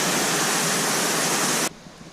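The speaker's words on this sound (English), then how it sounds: "We just got to a cool little waterfall right before the tea house." A small mountain waterfall near the Lake Agnes tea house in Banff pours in a dense, steady broadband rush close by, then drops abruptly to a quieter wash.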